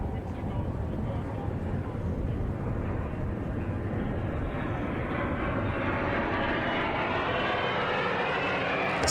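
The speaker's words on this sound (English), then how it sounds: "This is the F-35." An F-35 fighter jet at a Marine Corps demonstration, a heavy broadband engine roar that holds steady and loud throughout, with faint voices underneath.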